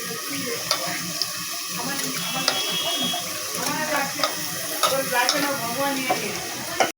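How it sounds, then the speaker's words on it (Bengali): Dal lentils are washed in a pot of water with a continuous close sloshing and stirring. Small splashes and scrapes recur throughout, and no one speaks. "একবারই ধোবো ভালো করে একবার ধুয়ে নেবো"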